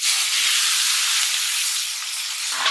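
Chili and potatoes hit hot oil left over from frying fish, producing a loud, broad hissing sizzle that runs continuously and eases slightly near the end, with no talking.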